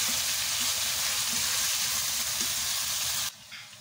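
Masala sizzles and fries steadily in a hot pan, a dense, close hiss with faint crackles that cuts off near the end.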